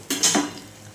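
A lid goes onto a nonstick pan with a short metallic clatter and scrape, a couple of quick close knocks in under half a second, then fading to quiet.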